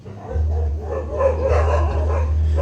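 Several dogs bark close by in a home, with a steady low hum running underneath and a brief shushing voice near the end.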